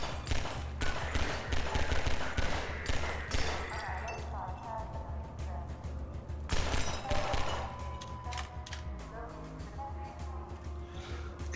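Rapid bursts of gunfire from Half-Life: Decay crackle in dense volleys, loud and close, with a low rumbling game background and a voice speaking over parts of it.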